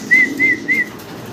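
Three short, clear, high calls repeat at an even pace against low background murmur, coming from a pair of large white Sirazi pigeons.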